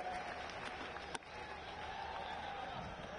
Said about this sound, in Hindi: एक बार पुनः जोरदार ताली बजाइए मेरे भाई के लिए